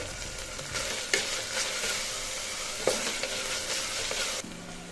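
A small amount of tomato fries in hot oil for tomato rice, with a close, steady sizzle broken by a few sharp spatula knocks and scrapes, and no voices.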